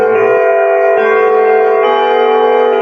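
A doorbell chime rings out loud and sustained, its bright tonal notes ringing steadily and overlapping as they decay, with no talk over it.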